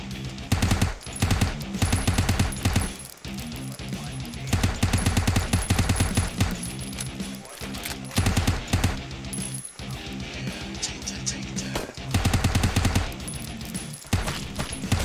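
Rapid gunfire from the video game Arthas, loud bursts of automatic shots repeating in fast clattering volleys with brief pauses between, heard close and alone without talk.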